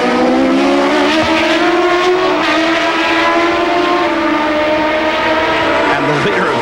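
CART Indy-style race cars at Mid-Ohio in 1991, engines screaming loud and close as they flash past, with several overlapping engine notes rising and falling steadily under faint commentary.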